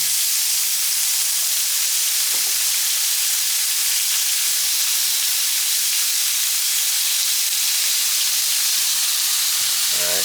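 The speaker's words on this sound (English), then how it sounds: "Hear that sizzle?" Garlic browning in a hot pan, frying in oil for a pork dish, gives a steady broad hiss of sizzling throughout, close and fairly loud, with faint clinks of stirring and no talk.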